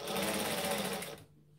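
Sewing machine stitching a gathered skirt in a fast, steady whir that stops abruptly near the end, close and alone.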